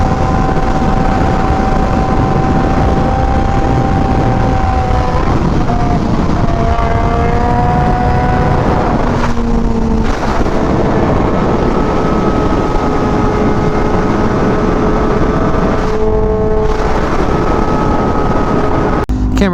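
A Honda Fireblade RRR SP motorcycle roars through a loud aftermarket exhaust while being ridden, its engine tone rising and shifting through gears under heavy wind buffeting for a sustained stretch.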